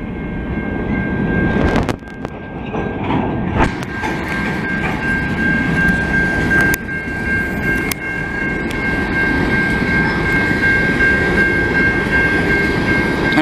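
A CN potash freight train rolls past in Montreal's St Henri borough in the evening, a loud steady rumble of wagons with rail clatter and a few sharp clanks, plus a thin high squeal running throughout.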